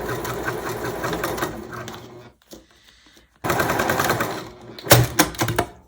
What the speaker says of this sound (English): I have to finish this top stitching on the edges.